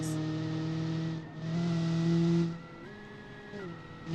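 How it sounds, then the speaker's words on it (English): A race car with a compact 1.6-liter engine and a sequential gearbox, heard in a racing video game, drones at a steady high engine pitch that dips and shifts between gears a couple of times. "Am I hearing sequential gearbox?"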